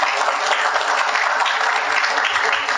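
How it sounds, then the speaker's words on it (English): A church congregation at a baptism service applauds as people sit down, a loud, thick, continuous roar of clapping hands filling the room without a break, with no talk heard over it. "Let's give them an applause as they sit down."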